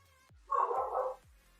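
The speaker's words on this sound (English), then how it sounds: "I don't know what they're barking at. They're barking at something." A single burst of dog barking, brief and moderately distant, set against an otherwise quiet background with faint low rumbles.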